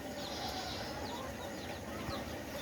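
Native desi hens kept for laying and hatching eggs cluck and chirp against a dense, constant hiss of background noise, the bird calls faint and scattered throughout.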